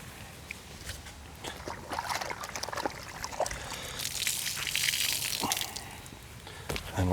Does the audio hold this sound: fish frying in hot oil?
no